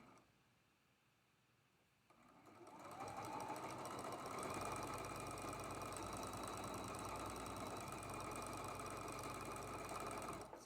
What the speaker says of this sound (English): We're going to sew that seam with a 1/4 inch seam allowance